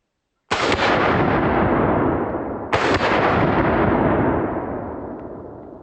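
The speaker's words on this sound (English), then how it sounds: "Let's see how fast we can go from one trigger to the other and fire both barrels." Double barrel shotgun fired twice, one barrel after the other about two seconds apart, each a loud close blast followed by a long rolling echo that fades slowly.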